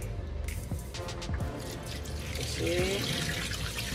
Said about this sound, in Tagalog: Hugasan lang natin ng maigi ang manok nang mawala ang lansa nito. At kung maaari, gumamit ng running water.